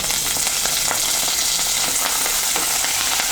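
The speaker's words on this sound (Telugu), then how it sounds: "తర్వాత కరివేపాకు వేసుకోవాలి" Curry leaves crackling in hot oil for a drumstick masala curry, a loud continuous sizzle with rapid spitting pops throughout, close up.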